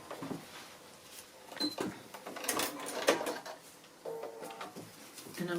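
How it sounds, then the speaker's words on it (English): A sewing machine stitches a paper foundation-pieced quilt block a quarter inch from the line, short bursts of rapid needle chatter starting and stopping at close range. "So again, sewing on that line"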